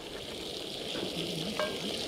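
Salmon fries in a pan at an outdoor wild camp in the Lake District, giving a quiet, steady sizzle with a few soft clicks as the fish is shifted over.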